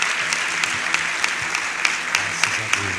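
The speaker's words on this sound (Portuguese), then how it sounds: "Você pode aplaudir Jesus com alegria bem forte." A church congregation claps together in a steady, dense round of applause with sharp, evenly spaced accents, heard close and sustained.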